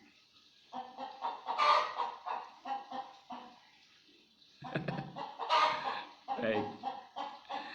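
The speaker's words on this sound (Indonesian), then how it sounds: "Yang suara ayam, yang suara kutut" Chickens clucking in the background of an Indonesian religious talk, short clucks and a possible crow heard under a man's speech, which pauses briefly midway.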